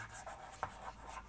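Chalk or a marker scratches across a classroom board in soft, faint strokes with one sharper tap partway through, quiet against a hushed room with no talking.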